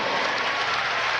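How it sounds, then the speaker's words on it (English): Basketball fans applaud at a state championship trophy presentation, a brief, continuous wash of crowd clapping at steady volume. "They're applauding too."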